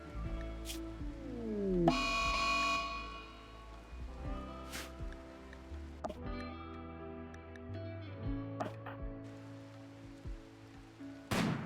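Rain in the video game Boundless Witch, a soft, faint patter of rain in a toxic forest setting, mixed with scattered game effects and tonal sounds rising and falling over several seconds.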